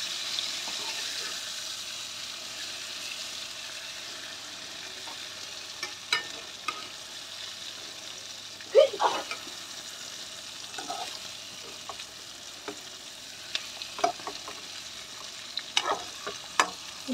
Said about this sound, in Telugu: వంకాయలు ఒకవైపు కాలినాయి కదా, ఇంకా ఒక వైపుకి తిప్పుకోవాలి.